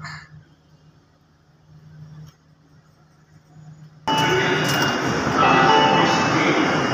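An Agra metro train arrives at Mankameshwar station, its loud rushing rumble surging in abruptly and filling the platform after a quiet stretch with a low hum.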